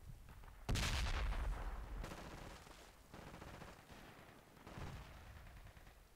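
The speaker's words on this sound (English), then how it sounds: "He's shooting through the fucking trees like a boss." Gunfire in the Project Reality game: a loud burst hits sharply and rolls into a long, booming rumble, then fainter distant shots and echoing crackle trail off across the battlefield.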